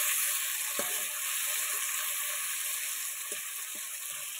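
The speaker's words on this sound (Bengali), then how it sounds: "দিয়ে টমেটোগুলো নেড়ে চেড়ে ভালো করে একটু ভেজে নেব।" Tomatoes fry with bay leaf, cumin and cinnamon for a chicken kosha, a bright, constant hiss of hot oil with a few soft spatula taps against the pan.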